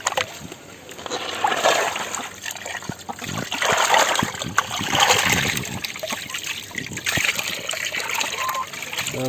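Water splashes and trickles as it is drained off washed duck meat, with uneven sloshing and pouring near the listener that carries on throughout.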